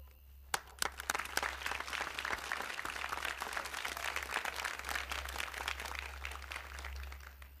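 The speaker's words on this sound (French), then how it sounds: "Moi, on m'applaudit." An audience applauding a speaker in a film, a steady burst of many hands clapping at moderate distance, sustained throughout with a few sharper claps near the start.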